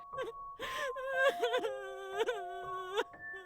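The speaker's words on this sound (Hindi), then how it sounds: "उसे बाहर कॉरिडोर से किसी के रोने की आवाज आती है" Crying heard in an office corridor as a horror story sound effect: a series of wavering, whimpering wails and moans rising and falling over several seconds, fairly close and with no talk over it.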